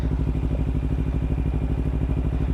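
Kawasaki Ninja 300 motorcycle engine running nearby with a rhythmic low thrumming pulse and mechanical clatter, steady throughout with no talk.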